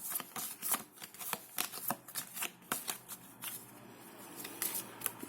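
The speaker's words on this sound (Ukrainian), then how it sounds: "Ці карти ви бачите, я їх сюди додаю, перемішую." Tarot cards are shuffled repeatedly in quick, crisp riffling bursts up close, a rapid papery flutter with no voices.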